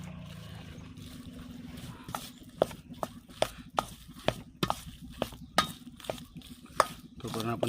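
A spoon scrapes and knocks in rhythmic strokes through a bowl of soybean chilli mixture seasoned with ground black pepper, the clicks steady and close with a quiet background.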